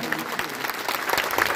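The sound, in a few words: audience applause at a religious gathering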